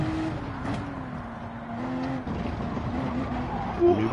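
A race car in Gran Turismo 7 drones along under heavy throttle, its engine note holding steady and shifting slightly in pitch across a few seconds of play.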